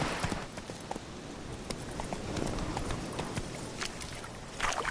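A horse gallops in The Witcher 3 on PS4 Pro, its hooves beating a steady, rhythmic clip-clop at moderate loudness with no pause.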